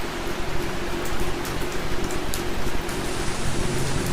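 Heavy rain falls at night on a village hut and fields, a dense, even hiss of drops with a low rumble underneath, steady and fairly loud for the whole stretch.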